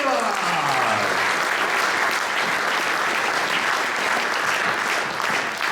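A large crowd at an awards event in Ljubljana's Old Power Station applauds steadily throughout, dense clapping with faint cheering mixed in, sustained and fairly loud without a pause.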